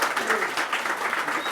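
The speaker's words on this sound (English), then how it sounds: "Let's give Kamwela Kirk a round of applause" Steady applause from an audience, a dense patter of clapping hands that holds evenly throughout.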